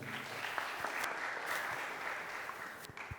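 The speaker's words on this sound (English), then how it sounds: "Round of applause for Martin." Listeners at a university career fair panel give a speaker a round of applause: a brief, moderately quiet patter of many hands clapping for a few seconds, with no voices over it.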